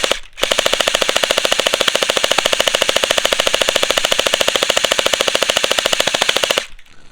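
A Vasvarn MP5-k fires a long continuous automatic burst, a rapid, even rattle of loud shots lasting several seconds before stopping abruptly, with brief quiet before and after.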